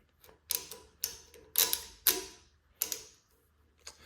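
A Muller Werkzeug 24-inch reversible ratcheting breaker bar clicks in separate bursts, about seven sharp ratcheting rattles spaced roughly half a second apart, close and clear with nothing else heard.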